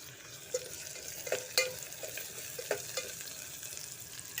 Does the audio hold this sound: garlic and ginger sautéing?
yes